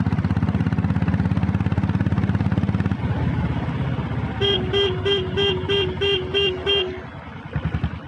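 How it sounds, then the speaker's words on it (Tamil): A red self-start diesel Bullet motorcycle idles with a heavy, rapid thumping chug, then its music cut-out horn plays a quick run of bright electronic tones that repeat several times over the engine before stopping. "மியூசிக் கட் அவுட் ஹார்ன் எப்படி ஒர்க் ஆகுதுன்னு"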